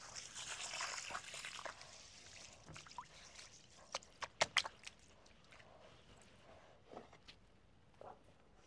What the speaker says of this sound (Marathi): आता आपण तांदूळ धुवून घेऊया।